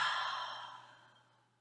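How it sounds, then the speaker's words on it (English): A long, breathy open-mouthed exhale like a yawn or deep sigh during a guided relaxation stretch, close and soft, starting strong and fading steadily over about a second and a half. "Take a deep breath, open your mouth wide and yawn."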